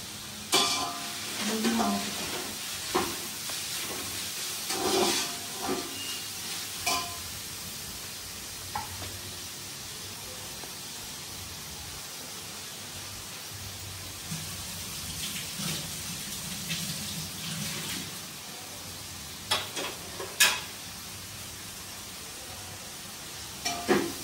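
Chopped onion frying in a pan for a Sunday biryani, a low, steady sizzle with intermittent stirring and scraping clatter, fairly quiet throughout.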